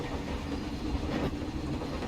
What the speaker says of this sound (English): That's the steam train, the Frisco Silver Dollar Line.